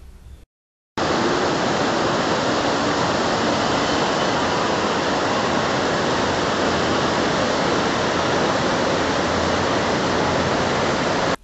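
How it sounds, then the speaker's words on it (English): Fast river water rushing at the confluence of the Alaknanda and Mandakini rivers at Rudraprayag, a loud, steady, unbroken roar that runs alone after a brief silent gap at the start. "This narrow stream of the clean water at the left side was River Alaknanda, which was flowing from Badrinath."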